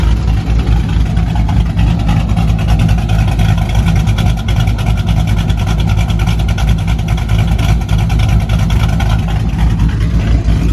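A 4.6 liter car engine runs loud and steady at close range, a thick low rumble with a continuous throbbing pulse and no clear rev swings or pauses across the whole stretch.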